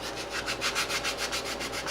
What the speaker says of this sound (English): So you need to keep on sanding.